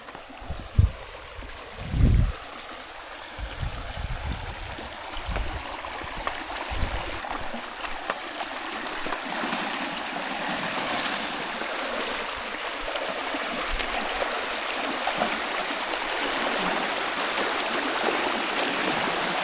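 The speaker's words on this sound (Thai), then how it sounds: "สายน้ำไหลอย่างสวยงาม" A forest stream flows steadily with a continuous rushing, gurgling wash that stays close and fairly loud throughout, with a few brief bumps and splashes near the start and no talking.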